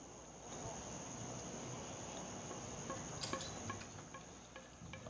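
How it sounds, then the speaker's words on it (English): Cricket chirping sound effect played over the public address at a baseball stadium during a late-count at-bat, a steady high insect trill carrying across the park with faint crowd murmur and scattered knocks beneath. "Crickets, crickets, crickets."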